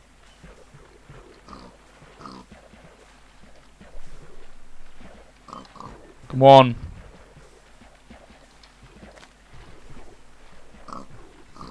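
A pig grunts once, briefly and fairly loudly, in the Minecraft video game, with steady footsteps and a player's speech running through the rest of the clip.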